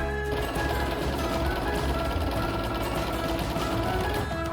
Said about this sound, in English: Take the strip and fold it in half, right sides together, and sew the short ends at 1/4 inch.